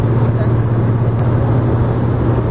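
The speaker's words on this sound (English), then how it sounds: "It's going to catch car sounds regardless." Steady, loud car traffic drones on the Atlantic City Expressway, a continuous low road rumble heard from inside a moving vehicle.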